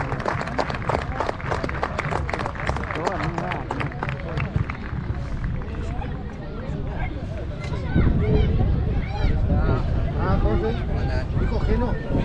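A crowd at a fourth-division amateur football match, El Gran Porvenir vs Mar de Ajó, applauds an injured player; a steady, distant wash of clapping and crowd noise swells toward the end, with a commentator talking over it.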